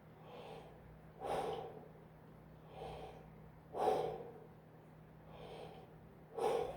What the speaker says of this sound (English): now try taking a couple deep breaths